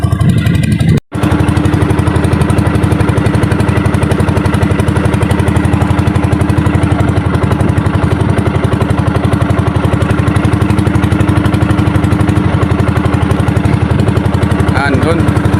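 A fishing boat's engine chugging loudly and steadily nearby, a rough continuous drone with a brief dropout near the start, while people talk over it.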